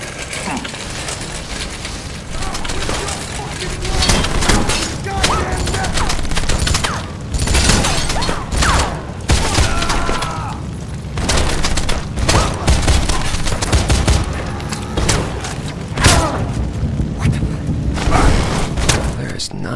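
Gunfire fills the 2009 video game Wanted: Weapons of Fate with a loud, dense stream of shots, booms and thuds. Bursts come in irregular clusters, and a voice talks over the fighting.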